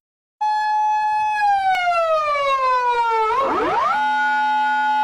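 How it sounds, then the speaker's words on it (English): A Japanese police car siren wails loud and close, a steady descending tone with rich harmonics that slides down, warbles briefly, then settles into a new pitch. "Police car sounds in various countries."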